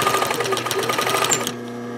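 A sewing machine back stitches on a towel with a fast, even mechanical whir of needle strokes for about a second and a half, then stops abruptly, leaving quiet room hum.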